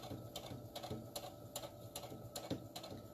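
A sewing machine runs top stitching around a fabric hair scrunchie, a quiet, close, rapid mechanical clatter with evenly spaced stitch pulses continuing throughout.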